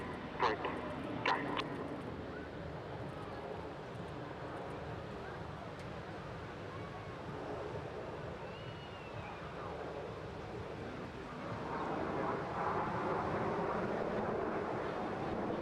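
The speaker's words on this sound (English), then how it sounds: "Red 1 pulls the Vixen formation up at over 400 miles per hour" A Red Arrows jet formation of display aircraft roars past at an English Riviera airshow, a broad distant rumble that builds and fades under continuous commentary over a public address.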